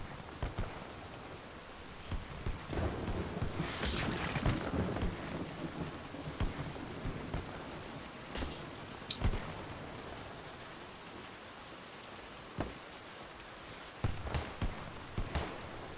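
Steady rain pours with rolling rumbles of thunder and sharp cracks throughout, in the game BattleBit on a rainy map, a dense continuous wash with no talk.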